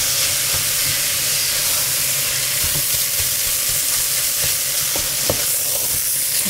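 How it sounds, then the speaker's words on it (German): Minced meat and onions browning in a pan, a loud, constant close sizzle and hiss with occasional scraping knocks of stirring, no one speaking. "das Fleisch anrösten, Zwiebeln anrösten."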